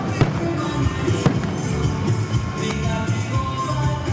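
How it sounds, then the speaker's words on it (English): Fireworks at Guyana's 59th Independence flag-raising ceremony burst in a dense, continuous barrage, loud sharp cracks and booms overlapping for several seconds with no break. "This will culminate the fireworks for this evening."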